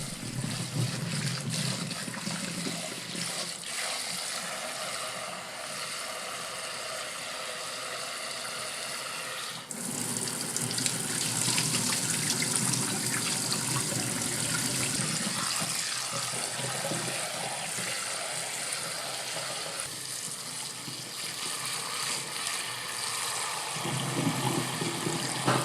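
Clear tap water runs in a steady, moderate rush for the whole stretch, with no talking.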